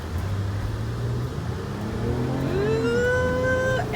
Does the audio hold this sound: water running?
no